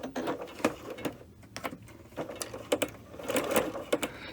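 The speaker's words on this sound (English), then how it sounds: "let's just back stitch once or twice on the basting stitch at this side and this side" A sewing machine back stitching over a basting stitch on knit dress fabric, short irregular bursts of close mechanical whirring and clatter with pauses between.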